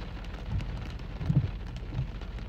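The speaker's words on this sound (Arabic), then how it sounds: "الثلج البرد." Hail mixed with rain falling outdoors in cold mountain weather at about 4 degrees, a steady close patter of drops striking surfaces with a few slightly louder hits, no voices.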